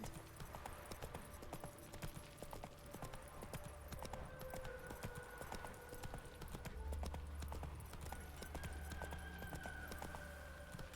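Horse hooves clip-clop steadily at a walking pace while riding in The Witcher 3, a continuous rhythmic patter under faint ambient game sound, with no talking.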